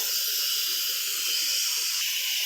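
A pressure cooker vents steam in a loud, continuous high hiss that holds steady without pause, close by and alone.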